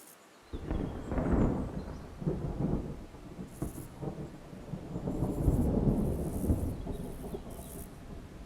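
A thunderstorm rolls over a taiga forest in autumn, with deep rumbles of thunder swelling and fading over a steady, heavy downpour of rain, loud and close throughout.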